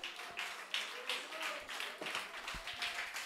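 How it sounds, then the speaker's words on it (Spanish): Church congregation applauding in rhythmic bursts of clapping through a sermon, steady and moderately close, with a preacher's voice and murmured speech mixed in. "Dele aplauso al Señor, hermano"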